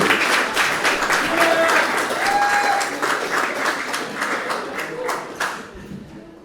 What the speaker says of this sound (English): Clap it up, clap it up. Keep it going with Joseph Rogers, everybody.